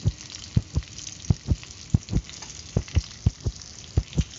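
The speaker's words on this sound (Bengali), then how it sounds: "দেখো এখন আমি পেঁয়াজ, তো দেখো পেঁয়াজটা ভাজছি।" Chopped onion fries in a pan, giving a faint sizzle with frequent sharp pops and spatters in an uneven rhythm close by, with no talking.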